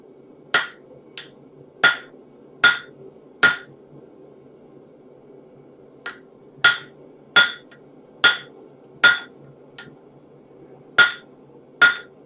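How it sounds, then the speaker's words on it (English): A blacksmith's hammer strikes a hot cut hardy on an anvil, about a dozen sharp metallic rings in two uneven bursts separated by a short pause, a few blows lighter than the rest, heard close and clear against a low background hum. "Not a big fan of this hammer."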